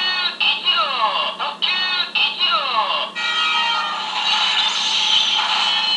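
Electronic ToQChanger transformation toy from Ressha Sentai ToQger, with a toy train inserted, plays bright, near, loud synthetic tones: a run of repeated beeping phrases with falling chirps, then a longer steady jingle.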